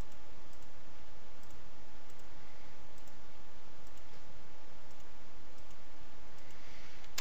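A computer mouse clicks repeatedly while selecting areas with a magic wand tool in image-editing software. The clicks are sparse, faint, and close, over a steady low hiss, with no talking.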